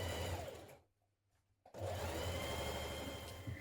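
Stitching a skirt panel side seam, a sewing machine whirs loudly up close, stops for about a second of near silence, then starts again and runs steadily to the end.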